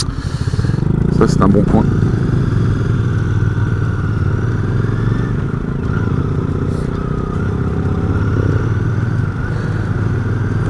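A Royal Enfield Bear 650 motorcycle engine holds a steady, close rumble while riding, with a few brief clattering knocks early on. Someone talks in French over the engine noise.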